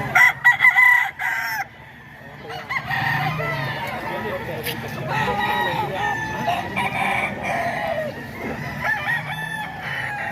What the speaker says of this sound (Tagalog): Tatlong libo lang to mga ka-idol. Manok ni Boss Randy